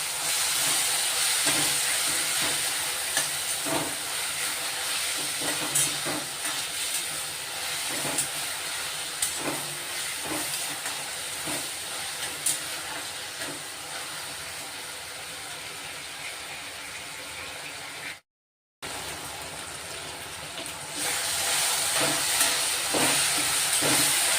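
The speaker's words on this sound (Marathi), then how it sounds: "दोन मिनिटासाठी वाफ काढून घेऊ आपण गॅस लो ठेवला आहे" A covered pan of sprouted moong beans and raw potato steaming over a low gas flame gives a steady, bright hiss that runs on and on, broken by a brief silent gap before resuming.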